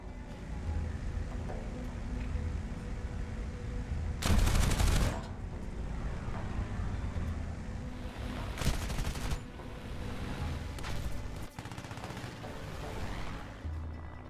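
Bursts of machine-gun fire from a fighter plane over El Arish, heard as a few loud, dense salvos separated by quieter rumbling gaps.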